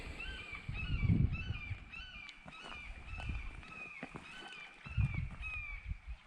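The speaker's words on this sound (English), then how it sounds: "That is a hawk making that screeching noise." A hawk screeches over a rural roadside by an old bridge site, its thin, high calls repeating through the whole stretch. Rustling footsteps and low rumbling sit closer underneath.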